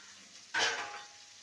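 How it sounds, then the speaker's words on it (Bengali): Snake gourd pieces stirred with salt and turmeric in a pan: a single short scraping, sizzling burst of the spatula moving through the vegetables, then a quiet low hiss. "ভালো করে নেড়ে নেব এবারে দিয়ে দেবো স্বাদ অনুযায়ী লবণ আর হলুদ গুঁড়ো"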